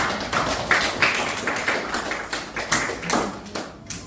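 Students in a classroom clap together in a sustained burst of dense, overlapping applause lasting several seconds, with steady loudness and no voices over it.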